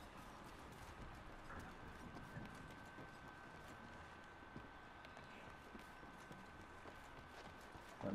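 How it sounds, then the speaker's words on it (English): Running footsteps of the character Bangalore in Apex Legends patter as a continuous faint, rapid stream of soft thuds under steady game ambience. "I think there's an issue with Bangalore's footsteps because, like, the way it sounds like there's people running with you."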